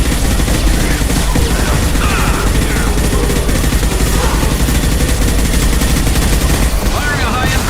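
Sustained gunfire fills a Mass Effect 2 firefight, loud dense bursts of shots and mechanical clatter running continuously without pause, with faint voice fragments buried in the mix.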